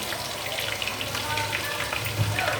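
Raw ginger paste frying in hot oil for a chicken pickle, a steady close sizzle with small pops and bubbling under a faint voice.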